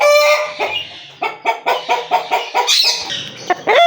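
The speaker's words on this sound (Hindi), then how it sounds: "दोस्तों ये एक मुर्गा" Rooster at a small backyard bird setup, giving a run of close, loud rhythmic clucks that build into a crowing call, with no talk.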